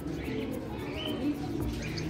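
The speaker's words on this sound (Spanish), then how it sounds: "Aquí estamos viendo los pajaritos." Pigeons or doves in an aviary coo softly in low, rounded calls, with faint chirps over a steady background murmur.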